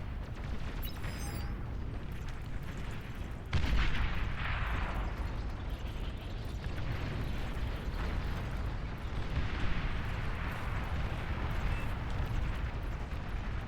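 Dense, continuous explosions and gunfire from a Beyond All Reason real-time strategy battle, a loud rumbling wash of blasts with bombing runs and gunships, steady throughout with one sharper jump partway in.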